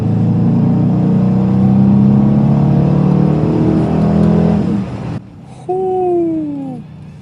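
2023 Dodge Challenger R/T engine revving hard in sport mode past 3,000 RPM, a loud steady roar with a whining tone, then a sudden drop and a short rising rev near the end.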